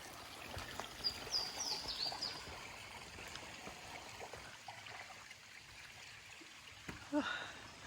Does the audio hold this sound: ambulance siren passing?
no